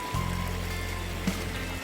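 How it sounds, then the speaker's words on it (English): Small creek flowing in an outdoor spot along a stream, a brief steady wash of running water with a low, constant hum running through it. "Got a little creek coming in."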